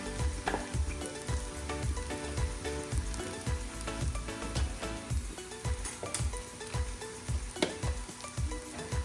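Onions fry in a pan for a homemade turkey curry, a steady close sizzle with crackling spatter and periodic stirring scrapes throughout.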